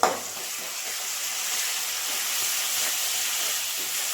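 Ginger garlic paste frying in a pan for fish curry, giving a steady, close sizzle and hiss that starts with a sharp burst and then holds even for the whole stretch, with no voices.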